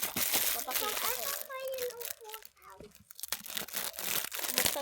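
A package being torn and crinkled open close by, its crackling plastic and ripping running throughout while a child and an adult talk over it.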